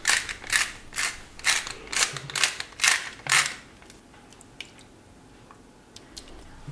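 A grinder cracks salt and pepper over burger stock in a run of about eight quick, crisp ratcheting twists, close and fairly loud, then stops, leaving scattered faint clicks and drips.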